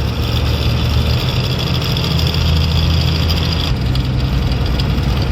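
A vehicle engine labours to climb a steep forest hill road in the Telangana hills, a loud, steady, low drone filling the whole stretch without letup and with no talk.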